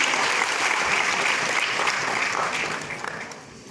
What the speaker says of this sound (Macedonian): Аплауз за прекрасните изведи на хора под менторство на професор Веселинка Мажарова.